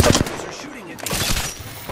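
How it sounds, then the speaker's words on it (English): Enemy gunfire in Apex Legends, a rapid burst of close automatic shots crackling over game sounds, with a voice speaking partway through. "They're shooting at me."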